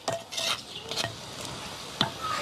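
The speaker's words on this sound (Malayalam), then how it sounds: "നമുക്കിതാ ഒന്ന് ഇളക്കി കൊടുക്കാം കേട്ടോ" A spoon stirs pumpkin curry boiling in a pot, with a few scraping clinks against the pot at irregular intervals over a soft bubbling background, close and moderately loud.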